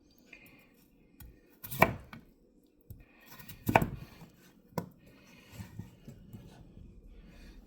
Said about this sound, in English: we're gonna probably chop these up into 4s